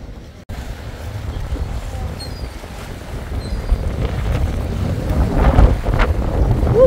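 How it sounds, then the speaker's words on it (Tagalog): Strong wind buffets the microphone in a constant roar that builds toward the end, with water and boat noise underneath, near the Statue of Liberty in New York. "Malakas ang hangin."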